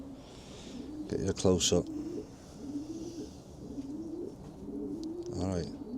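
Racing pigeons coo in bursts of soft, throaty calls close by, with someone speaking briefly over them.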